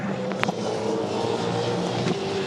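V8 Supercars racing at the Ipswich circuit, 2014, a car's engine droning past at a distance with a brief nearer burst early on, steady and moderately loud throughout.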